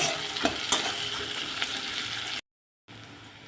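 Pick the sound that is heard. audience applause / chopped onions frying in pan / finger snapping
chopped onions frying in pan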